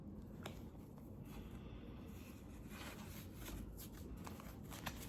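A hand shuffling a deck of cards makes faint, soft riffling and rubbing close by, repeated over a quiet room background.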